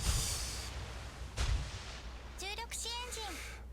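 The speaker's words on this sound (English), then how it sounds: "And as I say that, he lands rounds on me." Naval shell impacts in the World of Warships video game, with several muffled booming hits spread through a few seconds and a brief rising-and-falling game alert tone partway through, all over steady background rumble.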